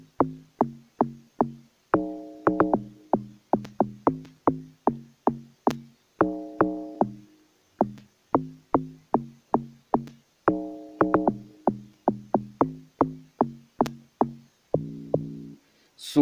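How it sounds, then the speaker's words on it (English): Corrugated log drum programmed in FL Studio Mobile for an amapiano-style track: short punchy knocking hits in a steady rhythmic pattern with occasional rolled chordal bursts, loud and clean with no talking over it. "I used this corrugated log drum, which sounds like this"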